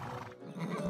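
A horse in the video game Rustler gives a short whinny, a brief strained neigh lasting about a second at moderate level with no speech.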